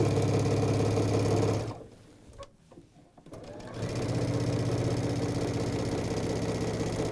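A sewing machine stitches a quarter-inch seam down the side of a quilted tote bag. It runs in a steady, close whir, stops for about two seconds, then starts again and keeps going.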